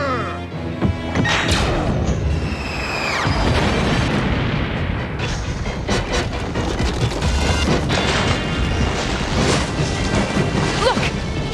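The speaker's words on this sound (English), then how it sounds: "They're bombarding us, Jack." Repeated explosions and crashing blasts rain down in a cartoon bombardment during a siege, with dinosaurs in the scene, loud and continuous for the whole stretch with whooshes and impacts layered together.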